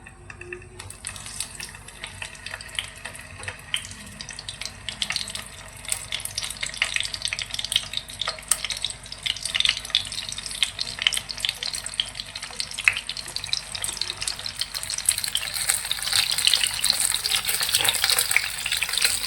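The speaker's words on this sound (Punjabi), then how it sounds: "ਤੇ ਤੇਲ ਆਪਣਾ ਹੁਣ ਗਰਮ ਹੋ ਗਿਆ ਜੀ ਤੇ ਹੁਣ ਆਪਾਂ ਸਾਰੇ ਟਿੰਡੇ ਇਹਦੇ ਵਿੱਚ ਐਡ ਕਰ ਦਾਂਗੇ" Stuffed round gourds (tinde) sizzle in hot oil with cumin in a pan, a steady crackling hiss that grows slightly louder and busier over time, with no talking.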